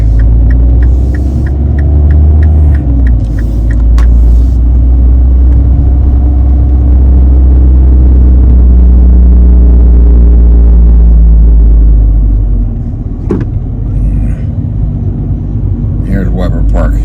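A car drives slowly through a leafy suburban neighborhood in St. Louis Park, its engine and tire rumble a steady low drone close to the cabin, with a couple of brief knocks along the way.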